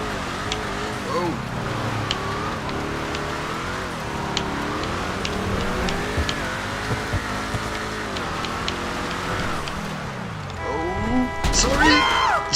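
A car in GTA Online revving and accelerating as it pops wheelies, the engine note rising and falling under excited talk, ending in a crash-like burst.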